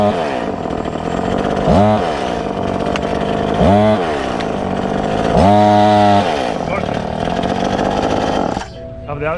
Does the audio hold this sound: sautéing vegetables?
no